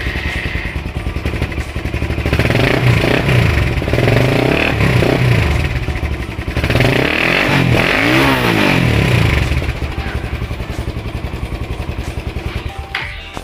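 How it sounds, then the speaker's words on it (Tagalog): A Suzuki Raider 150 motorcycle engine with a stock carburetor, tested after an adjustment for low RPM, revving up loudly from a clattering idle in two long surges before settling back, close by with no talk. "itatesting natin kung tataas na yung RPM niya"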